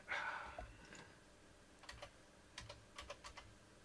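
Quiet clicking keystrokes on a computer keyboard, typed in a few short irregular bursts at close range, with no talking.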